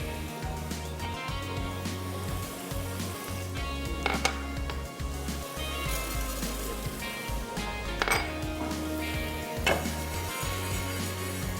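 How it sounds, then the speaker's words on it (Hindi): Cumin and coriander seeds roasting in a pan for a dal mash fry, giving a steady low sizzle with scattered light clinks and a few sharper metallic knocks of utensil on pan. "मीनवाइल हम करते क्या हैं, जीरे और धनिया को करते हैं रोस्ट।"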